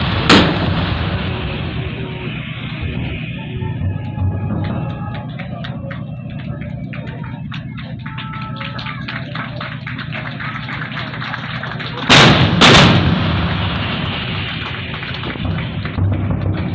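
Artillery guns firing as fire units engage objectives in a military fire assault, heard as dull, repeated booms over a steady rumbling background, with one louder, sharper double blast near the end.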